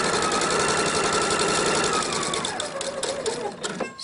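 A sewing machine runs a straight seam on a belt bag, a fast even mechanical rattle that holds steady and then slows and stutters to a stop near the end.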